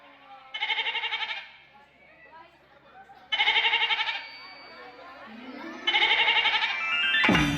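A goat kid bleats three times at a village Pongal festival in A.R. Puram, each call loud, close and wavering, spaced a couple of seconds apart over a low murmur of background voices.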